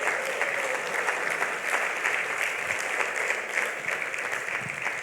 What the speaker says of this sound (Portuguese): Vamos dar outra salva de palmas para o nosso Deus.